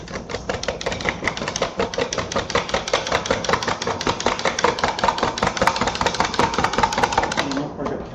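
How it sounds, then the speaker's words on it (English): A marinade with herbs briskly whisked in a bowl, a fast steady run of close clicking strokes against the bowl that continues for several seconds before easing off. "And you whisk."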